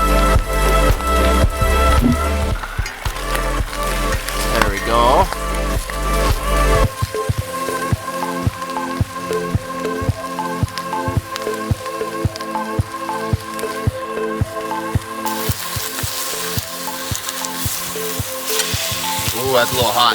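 Steaks fry in a cast iron pan set over a Swedish fire torch, giving a loud, steady sizzle with crackling and popping that runs the whole time, unbroken by voices.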